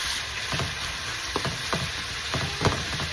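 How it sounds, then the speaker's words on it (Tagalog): Marinated chicken browning in a pan over medium heat, an even close sizzle with a few sharp spatula taps and scrapes spread through a few seconds. "Let's brown the chicken in its side."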